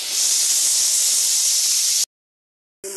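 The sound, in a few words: fish heads frying in oil in a wok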